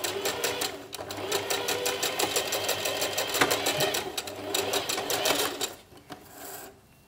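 A sewing machine stitches a fabric pouch in a steady rapid run of needle strokes, pausing briefly and slowing near the end, close up with no talking.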